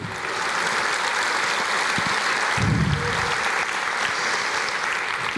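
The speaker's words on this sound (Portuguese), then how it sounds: "Aplauda mais" Steady, full congregational applause fills a church service, continuous broadband clapping throughout, with a brief low vocal swell partway through.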